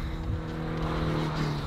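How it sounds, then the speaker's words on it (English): Car passing close by on a busy country road in rural northern France, a loud steady rushing engine and tire roar through the whole short moment, no talk. "I'm walking on a very busy country road. I'm walking against traffic, so when I see the cars coming up ahead, I get on the side."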